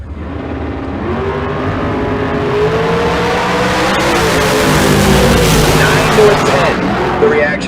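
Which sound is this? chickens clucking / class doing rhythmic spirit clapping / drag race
drag race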